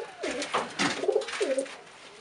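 Tippler pigeons coo softly in a breeding loft, with several low, rolling coos overlapping close by in a quiet indoor space.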